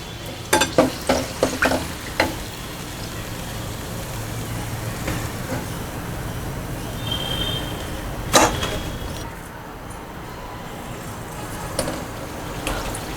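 Pea-filled kachoris frying in hot oil give a steady close sizzle, with a few sharp clinks of a utensil stirring and lifting them at the start and midway.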